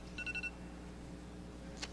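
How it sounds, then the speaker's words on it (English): A phone alarm goes off with a short run of bright electronic beeps near the start, faint under a low steady hum of broadcast background during a baseball game stream. "that's my alarm on my phone"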